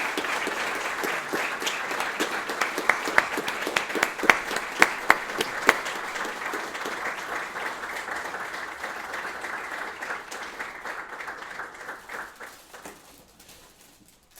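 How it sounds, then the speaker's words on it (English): A conference audience gives sustained applause, dense clapping from many hands that holds steady, then thins and fades out near the end. "I'd like us all to give her a round of applause"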